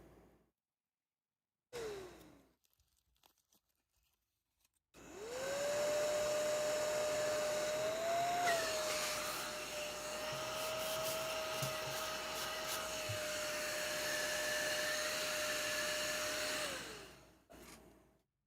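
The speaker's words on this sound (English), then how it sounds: "I bought a little handheld, like, vacuum sucker thing to try and keep my desk clean." A small handheld desk vacuum cleaner switches on and runs with a steady high whine for about twelve seconds before spinning down, preceded by brief rustling and a short motor blip.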